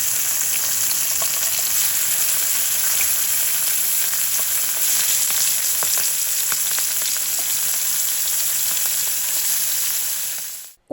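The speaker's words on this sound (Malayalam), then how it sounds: "വെളിച്ചെണ്ണ ഒന്ന് ചൂടായ ശേഷം നമ്മൾ കഴുകി എടുത്ത് വെച്ച മുള്ളനും കൂടെ ഇതിലേക്കൊന്ന് ഇട്ട് കൊടുക്കാം" Dried fish frying in hot coconut oil in a pan, a loud, even, hissing sizzle with faint crackles, steady for the whole stretch before fading out at the end.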